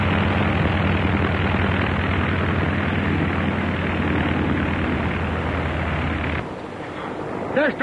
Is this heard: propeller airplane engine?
yes